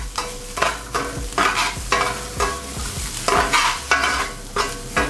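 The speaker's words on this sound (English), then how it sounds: "You want to lightly saute everything." Onions, sweet peppers, spring onion whites and a few jalapenos sauté lightly in hot oil, a steady sizzle broken by repeated loud scraping stirs that return in a rough rhythm, close and with no voices.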